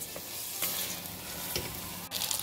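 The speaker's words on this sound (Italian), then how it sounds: "aggiungo il riso, mescoliamo, facciamo tostare per bene" Risotto rice toasts in a pan while being stirred, a close continuous sizzle broken by a few scraping spoon strokes and light knocks, with no talking.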